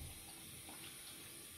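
Cold water runs steadily from a bathroom tap as it is used to rinse the face after a wet shave, a continuous close hiss and splash with no speech.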